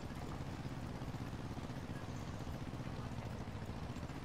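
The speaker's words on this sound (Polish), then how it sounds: "pan nie będzie słyszał, bo głośno ciągnik chodzi" Farm tractor engine running loudly in a field, a steady dense low rumble with constant roar, close and continuous with no talk.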